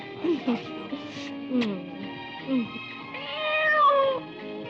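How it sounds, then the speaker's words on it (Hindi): A cat meows repeatedly, several short cries scattered through the stretch and one longer drawn-out wail near the end, heard fairly close in a 1990s Hindi film scene with other background sounds. "अरे बिल्ली, क्या?"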